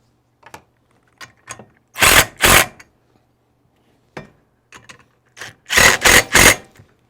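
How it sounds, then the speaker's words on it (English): A 1/4 inch impact driver tightening a bracket on a Lee case feeder mounted to a Dillon XL650 reloading press, close and loud, with short hammering bursts between sparse clicks and handling taps. "These 1/4 inch impact drivers are about the handiest thing I ever bought."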